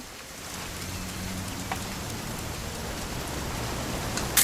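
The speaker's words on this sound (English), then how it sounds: "It's gonna rain the whole weekend, isn't it?" Steady rain falls in the video game What Remains of Edith Finch as an even, close hiss of drops pattering on surfaces, continuous throughout with no speech.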